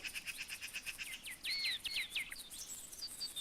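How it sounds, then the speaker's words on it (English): Crickets chirping in a pasture in the DOS video game Dragon Lore, rapid high pulsing trills repeating throughout with a few sharper sweeping chirps layered over them, steady and fairly close, with no voices. "we need to leave this pasture because these crickets or whatever are driving me nuts"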